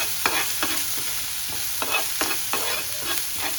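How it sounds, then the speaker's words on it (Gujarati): Ginger-chili paste and crackling cumin frying in a pan, with steady loud sizzle broken by repeated sharp stirring scrapes and pops at a fairly regular rhythm, close up and without speech. "જીરું આપણું ક્રેકલ થઈ જાય એટલે આદુ મરચાંની પેસ્ટ એડ કરશું"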